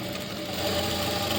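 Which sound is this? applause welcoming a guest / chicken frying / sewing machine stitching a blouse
sewing machine stitching a blouse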